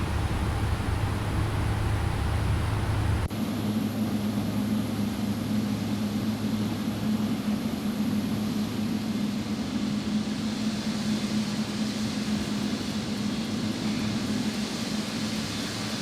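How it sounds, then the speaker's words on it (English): Boeing 777-300ER in X-Plane 12 with one engine running for a single-engine taxi, steady broadband turbine roar with a low hum that shifts pitch after a few seconds, constant and close, no voices. "Got our engine started for our single engine taxi"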